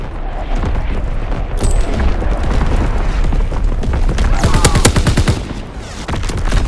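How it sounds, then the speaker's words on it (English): Heavy wartime battle in Call of Duty WW2, with enemy artillery explosions booming among steady rapid gunfire, loud and continuous with dense bursts, while the battlefield din never lets up. "Incoming enemy artillery! Get to cover!"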